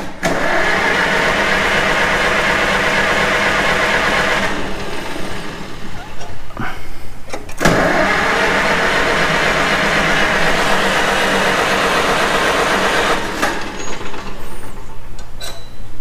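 Farmall M tractor engine running on choke, a loud, steady close-up chugging that dips and stumbles briefly midway before picking back up, with a voice speaking over it.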